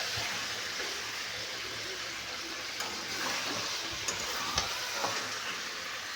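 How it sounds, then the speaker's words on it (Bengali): Mutton is sautéed and stirred in a pan to make kosha, giving a continuous moderate sizzle with light scraping and a few soft clinks of the spoon against the pan. No talking. "মাটন কষা চলছে এখন মাটনটা আমি রান্না করছি"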